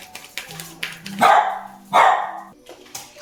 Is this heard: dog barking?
yes